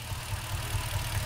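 A Ford BA Falcon XR8 5.4 litre V8 idling with a cylinder misfire from a failed injector driver, its low throb lumpy and irregular, heard up close for a short stretch.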